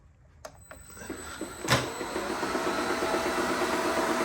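A Racine power hacksaw, driven by a flat belt from a small pulley up to a 12-inch pulley, starts up with a few clicks and a sharp clack, then settles into a steady close mechanical running rattle.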